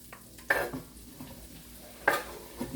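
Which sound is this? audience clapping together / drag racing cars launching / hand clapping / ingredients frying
ingredients frying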